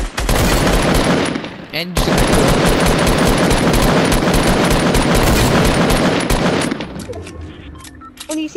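Fortnite gunfire during a 20 versus 20 battle royale match: loud, dense rapid-fire bursts run almost continuously, break briefly once, then thin out toward the end, with a voice briefly heard.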